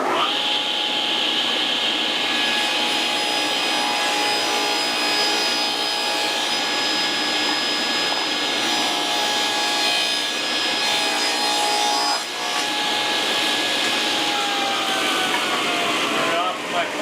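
A table saw runs steadily and cuts through a wooden board. A bright, whining blade tone holds for the whole stretch, with a brief dip as the cut changes near the end.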